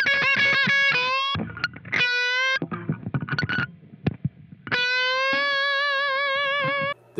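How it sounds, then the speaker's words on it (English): Electric guitar with a light overdrive plays a bluesy lick: sustained bent notes, quick choppy runs, then a long held note, loud and close. "a light overdrive is absolutely perfect for a nice bluesy solo"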